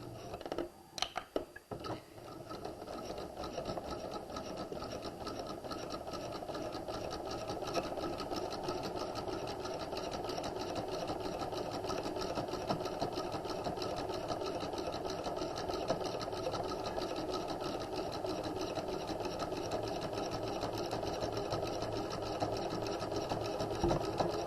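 Sewing machine running continuously as it stitches a straight hem across folded fabric, a steady fast mechanical whir with rapid needle ticking, close and constant for the whole stretch after a few brief handling knocks at the start.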